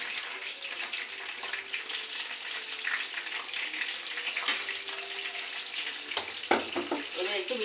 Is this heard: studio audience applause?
no